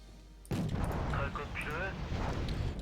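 Mortar fire in the strategy video game Wargame Red Dragon erupts suddenly and keeps rumbling with booms, while someone talks over it.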